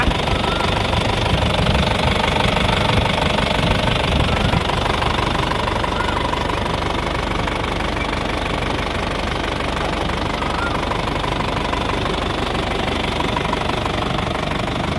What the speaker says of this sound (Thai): เสียงเครื่องยังเพาะอยู่นะคะ ไม่มีไอนะคะ